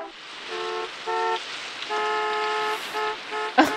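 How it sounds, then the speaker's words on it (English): Car horns honk over and over in a 1983 comedy film scene, several overlapping toots in short bursts and longer blasts, fairly close and steady, with a brief clatter near the end. "Why are they all honking?"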